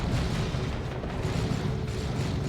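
A lascannon-armed Predator tank fires in the Dawn of War 2 strategy game, a dense, continuous roar of booming blasts and explosions with no speech.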